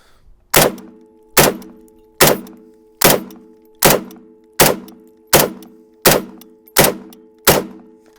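Russian SKS rifle fired in a slow, even series of about ten sharp, loud shots, each followed by a short ringing decay, with no talking.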